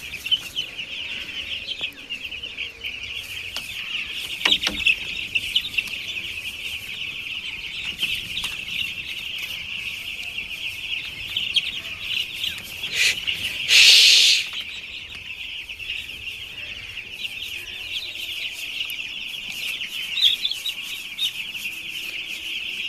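A flock of chickens in a home coop clucks continuously at moderate distance. One loud, drawn-out squawk cuts through partway in, with scattered chirps throughout.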